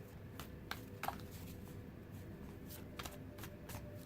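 Tarot cards are shuffled by hand close up, giving soft papery rustling broken by several sharp slaps and taps at irregular intervals.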